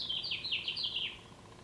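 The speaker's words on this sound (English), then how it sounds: "And it doesn't prohibit you from hearing the birds." Small birds chirp outdoors in a quick series of high, bright tweets, faint and somewhat distant over a soft background hush.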